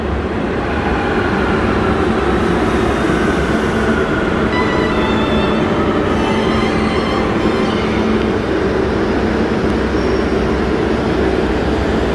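Steady, loud rumble of a Barcelona metro train in motion, a continuous low roar with faint higher whine, no voices.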